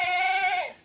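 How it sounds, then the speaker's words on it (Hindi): A four-year-old male goat of the Amar Sari breed gives one clear, close bleat lasting most of a second, steady and then dropping in pitch as it fades at the end. "4 साल का बकरा है, इसकी उम्र है वो 4 वर्ष की है।"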